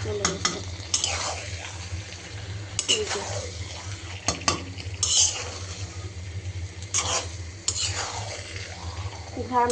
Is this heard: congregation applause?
no